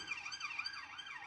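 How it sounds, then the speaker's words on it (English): A distant police siren wails in rising and falling sweeps, faint and steady against quiet background noise. "I can hear a police siren"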